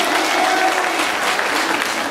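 A student general assembly in Kédougou breaks into applause to approve the committee's proposals; dense, steady clapping from the room at a fairly loud, even level.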